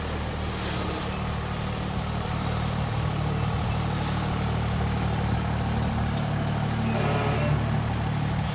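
A 2004 one-ton 4x4 truck with a 5.9 Cummins diesel engine and six-speed gearbox, idling as a steady mid-volume rumble with a low throbbing drone throughout and no talk.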